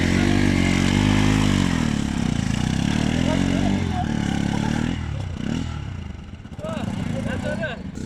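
A motorcycle rides a slippery, snow-covered mountain road toward Kalinchowk in Dolakha, Nepal, its engine droning steadily up close before bumping and clattering over rough ground, with a rider's voice heard over it.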